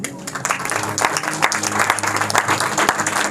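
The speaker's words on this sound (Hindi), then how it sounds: "तालियां हो जानी चाहिए" Applause rises from an audience at a religious lecture, a dense crowd of hands clapping steadily and fairly loud for a few seconds.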